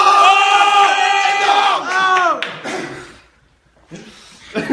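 Loud, wild cheering from a crowd, with voices whooping and yelling together for a couple of seconds before it fades into quiet, then a few scattered sounds return at the end.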